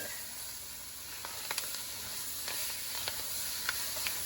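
Vegetables hitting a roux in a pan for a crawfish and shrimp étouffée send up a steady, moderate sizzle and hiss, with scattered small pops and crackles over a few seconds and no talking.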